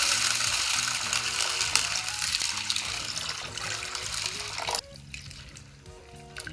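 Water poured over soaking moong and chana dal in a bowl, a steady splashing trickle that stops abruptly partway through, leaving faint background music.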